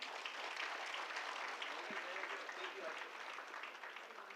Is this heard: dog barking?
no